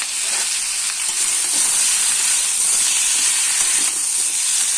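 Drumstick (sojne) chachchori cooking on low gas in a pan as the lid is lifted, giving a continuous loud sizzle and hiss of frying with faint stirring, close up and without talk.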